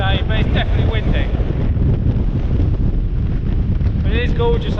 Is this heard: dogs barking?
no